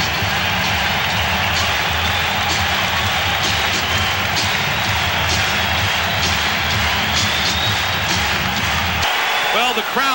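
Home crowd roaring and cheering for the Chicago Bulls during a 1992 NBA Eastern Conference Semifinals playoff game against the New York Knicks, a loud sustained arena din that carries throughout, easing off near the end.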